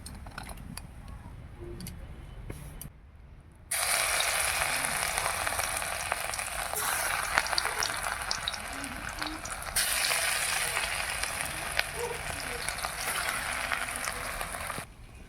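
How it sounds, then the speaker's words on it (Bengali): Taro and shrimp fritters deep-frying in hot oil, a soft hiss at first that jumps to a loud, steady crackling sizzle and carries on to the end with faint stirring. "কুচু চিংড়ি বড়া ভাজা হয়ে গেল"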